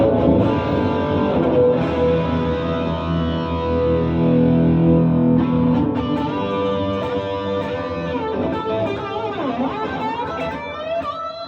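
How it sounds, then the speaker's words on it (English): An electric guitar played through an SR&D Rockman Ultimatum distortion generator and a bass chorus deluxe gives a sustained, saturated, shimmering tone, with chords ringing steadily and a bent, wavering phrase near the end, loud and with no talking. "Ultimatum distortion generator with the bass chorus deluxe."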